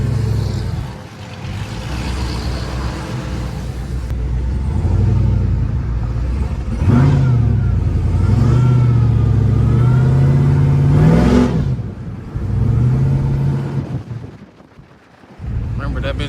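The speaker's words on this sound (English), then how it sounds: "First drive in the Trailblazer." A fully built Chevrolet Trailblazer SS engine revs loudly up close during its first drive, with a sustained throaty rise and hold around the middle, then dips and recovers, while voices talk over it.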